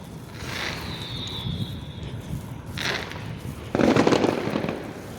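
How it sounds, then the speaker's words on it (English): Scattered pops and crackles of distant Fourth of July fireworks at night by a canal, with a louder burst of crackling near the end over steady outdoor background noise. "A little bit of fireworks"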